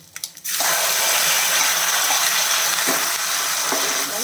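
Ground tomato tipped into a hot pan for tomato chutney, a brief splash and clatter giving way to a loud, steady sizzle and frying hiss that continues, with a few faint stirring clinks.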